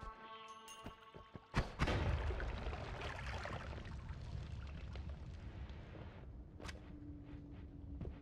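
Bombs going off in the game Noita: a sharp blast near 1.6 s opens a dense, sustained rumbling roar that lingers for several seconds, with a few fainter pops and crackles following later.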